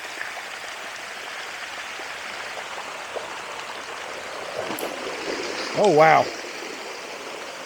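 Rainwater running strongly into a backyard pond, a steady soft rush of flowing water that stays fairly quiet, with a brief exclamation from a voice near the end.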